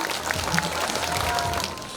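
Audience applause for graduates at a youth arts centre's annual concert, a steady dense wash of many hands clapping throughout, fairly distant and even.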